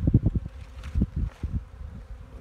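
Honeybees hum low and close during a February beehive inspection, the buzz swelling and fading in uneven pulses mixed with soft wind and handling thumps, with no voices heard.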